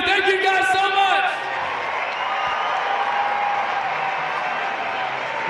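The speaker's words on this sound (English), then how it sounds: "truly a legendary crowd we had here tonight in Philadelphia. You could hear it from start to finish." Stadium crowd of some 45,000 fans at Citizens Bank Park in Philadelphia for a Savannah Bananas game, cheering and applauding in a loud roar that fades to a wide, sustained hum of noise, with voices shouting over it early on.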